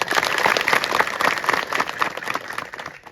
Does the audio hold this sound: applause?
yes